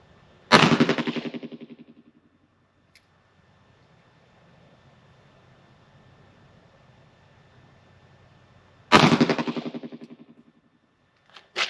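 Two sharp, loud .22 Magnum shots from a High Standard DM101 Derringer, about eight seconds apart, each with a long ringing decay into quiet outdoor background, a faint click between them and a third report starting at the very end.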